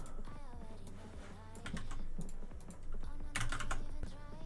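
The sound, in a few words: typing code on a computer keyboard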